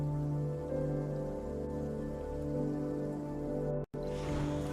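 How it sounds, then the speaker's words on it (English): Acid rain falling in the video game Surviving Mars, a steady hissing patter under a droning hum that stays even, with one abrupt brief cutout near the end. "Well, the acid rain's back."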